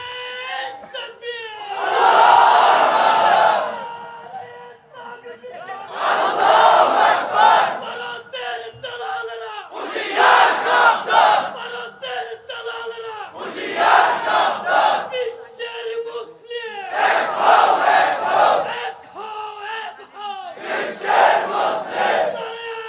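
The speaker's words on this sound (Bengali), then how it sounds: "এবার তাকবীর দেন, কলিজা ভরে তাকবীর দেন" A large crowd at an outdoor Islamic religious gathering shouts takbir in repeated loud, rhythmic bursts, roughly every few seconds, each wave of voices swelling and then dropping away.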